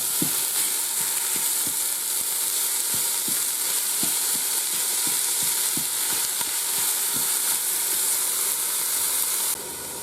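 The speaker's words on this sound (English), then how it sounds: "I'm going to go ahead and add my ground beef." Ground beef fries in a pan for Jamaican beef patties, with a loud, constant sizzling hiss and a string of dull thumps from stirring, cutting off suddenly near the end.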